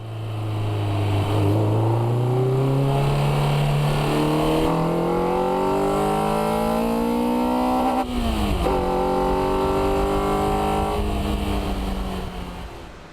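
A Lotus sports car driving on a country road, its engine revving up through several gears with rising, falling pitch, loud and close throughout, a sharp gearshift dip midway before easing off at the end.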